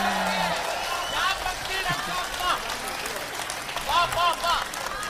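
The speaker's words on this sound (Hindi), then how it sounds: "तालियां गलत जगह बजा दी आपने" An audience claps during a recital of Hindi verse, the applause sitting as a diffuse wash under a man's continuing speech throughout.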